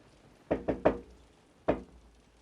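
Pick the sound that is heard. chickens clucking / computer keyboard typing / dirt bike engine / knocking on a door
knocking on a door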